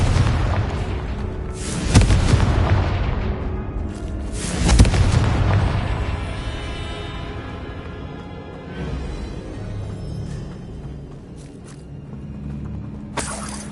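Confringo spell blasts in Hogwarts Legacy go off as two loud booming explosions about three seconds apart, each followed by a long rumbling decay, with lighter crackling debris afterward.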